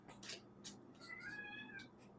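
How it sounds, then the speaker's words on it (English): A domestic cat gives one short meow near the middle, moderately close and fairly quiet, with faint room noise around it and no talking. "Meow, says Domino"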